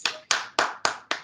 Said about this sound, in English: Everyone, please give our board of directors a round of applause